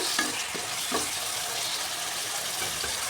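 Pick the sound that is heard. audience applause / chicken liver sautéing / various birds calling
chicken liver sautéing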